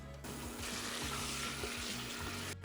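Well-seasoned shrimp frying in a pan, giving a dense, continuous hiss of sizzling oil that holds steady for a couple of seconds before stopping abruptly, close and fairly loud with no talking.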